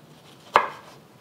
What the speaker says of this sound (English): When I cut my tomatoes, I actually like to cut it just off to the side of the stem